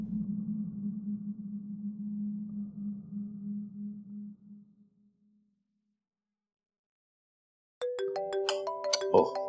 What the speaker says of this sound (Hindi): हर वक्त आपका फोन ही बजता रहता है